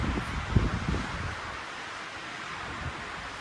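Outdoor wind gusting steadily past the microphone at a sunset viewpoint where statues are being worked on, a broad rushing noise with a few louder buffets early on, continuous and fairly close throughout, with no talking.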